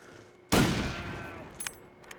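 A single loud rifle shot in the survival game The Long Dark, hunting a bear, with a sudden sharp crack and a long fading echo, then a few faint clicks as the weapon is handled.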